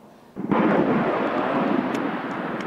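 A US military Apache helicopter roars low over a rural village near a firing range in Pohang, South Korea, its thunderous rumble bursting in suddenly and holding loud and heavy throughout.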